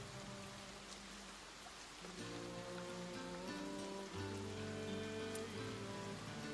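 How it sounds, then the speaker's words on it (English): Steady rain drums on a roof in a continuous, even wash, with low rumbling tones underneath that fit distant thunder; no voices are present. "you wake up to the pounding of the rain on the roof and the sound of distant thunder"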